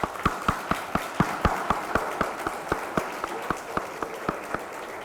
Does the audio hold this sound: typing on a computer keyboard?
no